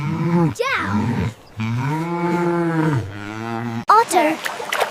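A cow gives a long, deep moo, sustained for a couple of seconds between a brief lower call and a sharp closing snort, loud and close.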